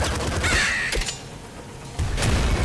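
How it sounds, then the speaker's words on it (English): A crow in the Nuclear Throne video game caws loudly a couple of times, each harsh call standing out over a busy game soundscape. "Okay, stupid crow."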